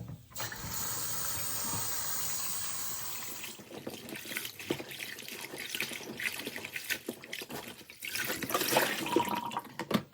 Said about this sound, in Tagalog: Hugasan natin ng ilang beses.